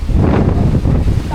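Strong wind buffets the microphone outdoors near a house in Nasugbu, a continuous low rumbling roar filling the whole moment.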